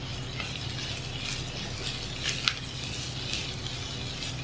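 A spatula stirs snake gourd fry with egg in a pan: a faint, steady sizzle under soft scraping, with one small clink partway through.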